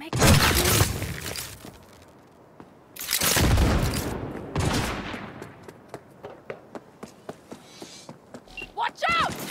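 Gunfire in the Cyberpunk 2077 video game: heavy bursts and rapid single shots, loud and close, mixed with booms and a quick rattling sequence of rounds, with voices shouting between the volleys.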